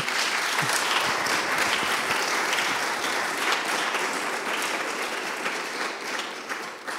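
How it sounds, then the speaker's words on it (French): A lecture audience at an evening conference on measurement and energy applauds a speaker again, dense sustained clapping from a large crowd that holds steady and tapers slightly at the end. "je crois qu'on peut l'applaudir encore une fois"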